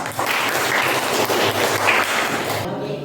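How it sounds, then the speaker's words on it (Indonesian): Applause from an audience at a teacher-education presentation event for the presenter Narham; steady, fairly loud clapping for about two and a half seconds that cuts off abruptly near the end. "mari kita berikan tepuk tangan untuk"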